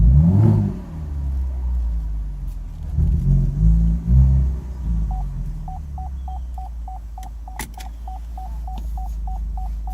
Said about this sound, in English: and that sound of the engine, I like that.